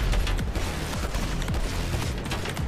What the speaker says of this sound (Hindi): अभी इधर गोली चल रही